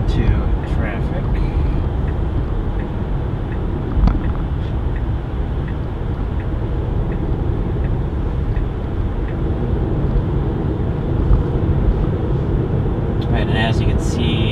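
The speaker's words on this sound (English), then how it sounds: "so I'm gonna merge into traffic." A Tesla car on the road merging into traffic, with steady broadband road and tyre rumble continuing throughout at even loudness, interior cabin noise, no one talking.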